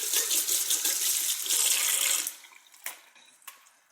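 Tap water runs hard into a sink while a makeup brush is rinsed, a bright steady splashing hiss for about two seconds that then stops, leaving a few faint drips and small knocks.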